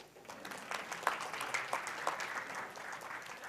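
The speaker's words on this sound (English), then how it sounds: "I was supposed to have claps." Prerecorded applause sound effect played during a lecture presentation: a dense, steady patter of many hands clapping at moderate level, running the whole clip without talk.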